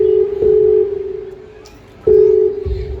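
A telephone being dialed, a steady sustained tone broken by a few short beeps, loud and close, with faint background murmur.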